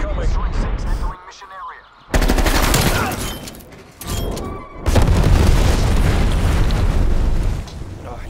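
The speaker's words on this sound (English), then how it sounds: "Enemy napalm strike incoming." Explosions from a napalm strike mixed with gunfire in Black Ops, heavy booming bursts and rattling shots filling most of the stretch with brief lulls between loud barrages.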